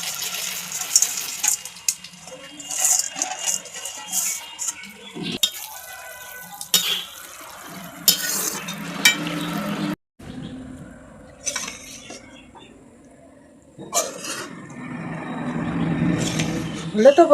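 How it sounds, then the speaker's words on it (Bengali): Fried boondi dropped into sugar syrup and stirred in a pot, with intermittent scraping, clinking and wet stirring sounds close by, broken by short pauses. "এই যে আমি দিয়ে দিচ্ছি বোঁদেগুলো মিষ্টির রসে"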